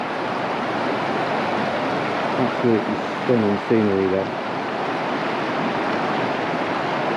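Brook running in full flow after heavy rain, a steady loud broadband rush of water throughout, with someone briefly speaking over it in the middle.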